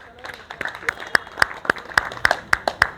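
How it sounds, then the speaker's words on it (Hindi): Scattered hand claps ring out in a rhythmic, uneven burst at a National Safety Day gathering, a small audience clapping sparsely and without full force, each clap sharp and distinct. "एक बार जोरदार तालियां बजा दीजिए वेंकटेश जी के लिए"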